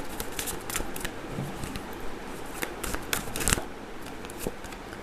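Angel oracle cards being shuffled and drawn, a steady papery riffling and flicking with sharp slaps, close and moderately quiet with no talk.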